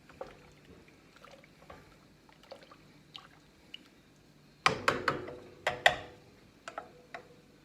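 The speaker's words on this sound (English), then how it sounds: "Stir it up, stir it up." Beef soup stirred in a pot: a quiet start, then a cluster of sharp clinks and taps of a utensil against the pot, several close together, tapering off.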